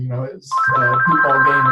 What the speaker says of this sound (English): that is a phone ringing